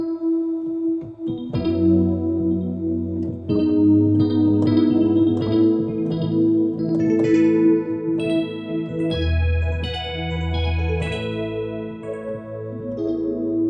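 Electric piano chords and melodic notes ring out with a ping-pong delay echoing each note back and forth, plus a lush chorus shimmer and reverb, played alone without talk.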